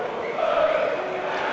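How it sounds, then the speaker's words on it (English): A football stadium crowd at Tottenham versus Brentford roars in a steady, distant wash of cheering, swelling slightly midway through a brief moment. "there's real energy from the crowd when Brentford come forward"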